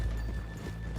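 Horse hooves clip-clop in Red Dead Redemption 2, a brief, fairly soft patter of steps with no talking.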